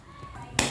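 A single sharp hand clap sounds near a newborn baby to test the Moro reflex during a physical examination. It is one brief crisp snap after a quiet, faintly humming room.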